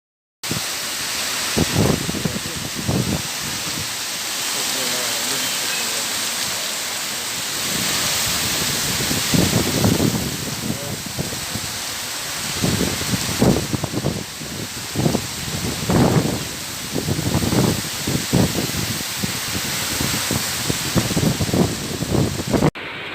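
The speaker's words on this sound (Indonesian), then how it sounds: "kota Bandung sedang dilanda dengan musim hujan" Heavy rain pours down steadily on Bandung during the rainy season, a dense continuous hiss punctuated by louder splashing bursts throughout, with no voices.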